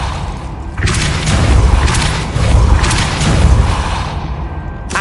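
Glacius and Depulso spells cast in the Hogwarts Legacy video game, heavy booming magical blasts with whooshing bursts and thuds, loud and sustained across several surges.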